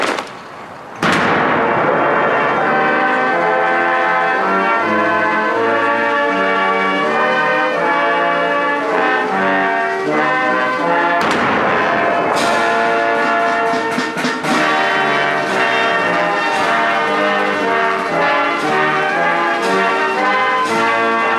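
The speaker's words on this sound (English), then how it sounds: "the Governor-General takes her position on the dais in front of the troops, and we'll hear the vice-regal salute." Vice-regal salute at an outdoor Throne Speech ceremony with troops, heard as a loud, sustained, ringing sequence of tones with sharp bursts partway through, heard alone.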